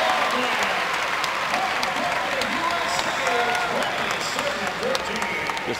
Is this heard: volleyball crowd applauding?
yes